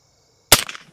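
A single arrow strikes a sandbag with one sharp, loud close impact after near silence, followed by a brief rattling decay.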